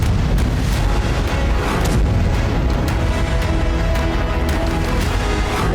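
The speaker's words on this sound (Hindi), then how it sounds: "ये वीडियो भी सामने आया है जिसमें पानी के भीतर एक जोरदार धमाका होता हुआ दिख रहा है।" Powerful underwater explosion tied to a Russian submarine strike in the Russia-Ukraine war: a loud, continuous deep roar with crackling debris-like bursts runs throughout, heavy and close with no voices.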